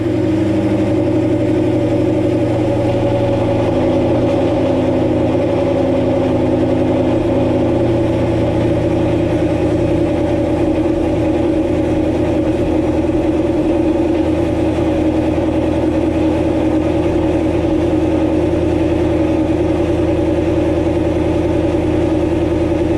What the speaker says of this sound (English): We'll get to hear a real cold start.